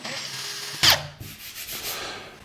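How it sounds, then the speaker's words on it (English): A power drill bores a hole with a short burst of whirring and grinding against the workpiece, close and fairly loud amid handling noise. "Take a drill bit, slightly bigger than your screw."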